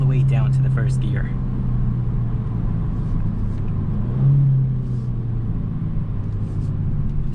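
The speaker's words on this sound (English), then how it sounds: "Does downshift all the way down to the first gear." A 2022 Genesis G70 Sport Advanced rumbles steadily from inside the cabin as the engine blips and revs briefly with each downshift toward first gear, with talk running over it.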